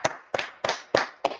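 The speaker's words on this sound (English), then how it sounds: "Let's clap it up for the Lord." A church congregation claps in slow unison, five sharp, evenly spaced claps about a third of a second apart, close and fairly loud with a short ring after each.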